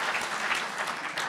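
A crowd at the Korea University newspaper's 70th anniversary ceremony gives continuous, even applause, close and full, throughout the short moment.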